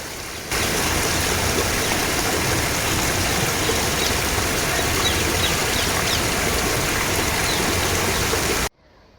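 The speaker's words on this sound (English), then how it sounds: "we can have a listen to the lovely waterfall now" A small waterfall beside the lake in Regent's Park, London, gives a steady, close rush of splashing water that starts abruptly, holds even for several seconds and then cuts off.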